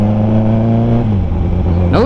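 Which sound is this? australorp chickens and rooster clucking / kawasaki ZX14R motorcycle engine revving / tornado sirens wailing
kawasaki ZX14R motorcycle engine revving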